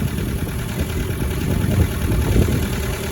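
A 1952 MG TD Roadster engine idles steadily with a low, even rumble, no talking, holding a constant level throughout.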